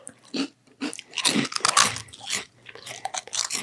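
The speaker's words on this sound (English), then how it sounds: "are you like freaking out right now with all these chewing sounds?" Crunchy bites and chewing of food during a podcast, a series of close, wet crunches and bursts of mastication repeating irregularly with short pauses between.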